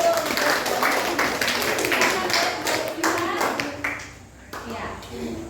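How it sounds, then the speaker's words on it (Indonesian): Clapping from a classroom audience after a group presentation, scattered hand claps over a steady murmur that thins out toward the end, with voices talking underneath. "Tepuk tangan dulu"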